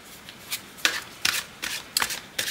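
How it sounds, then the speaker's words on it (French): Tarot cards are shuffled at close range in about six quick, crisp riffling bursts separated by short pauses. "Et je commence le tirage avec le tarot."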